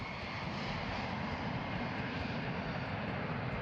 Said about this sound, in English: Sophia, a massive Boeing 747 with a telescope mounted in a strengthened fuselage, was cleared for takeoff.